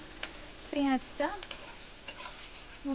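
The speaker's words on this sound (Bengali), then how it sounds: "পেঁয়াজটা তাড়াতাড়ি ভাজা হবার জন্য" Onion frying with green chilli and a little salt in a pan for egg posto, with quiet background sizzle and a few short bursts of stirring scrapes. A voice breaks in briefly.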